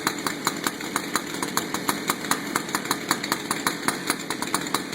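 A gas-powered saw engine idles while warming up, a steady fast pulsing putter with regular sharp ticks, close and fairly loud, no talking.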